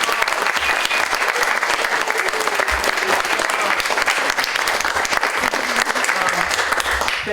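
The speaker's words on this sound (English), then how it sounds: "Let's give them all a round of applause." Loud, sustained applause from an audience honoring storytellers at a live storytelling event, dense steady clapping filling the room without a break.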